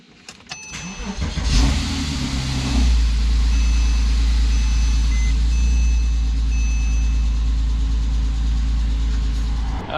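A 2007 Porsche Cayman starts up and settles into a steady, close, rumbling engine drone at the start of a test drive after minor repairs, with no talking.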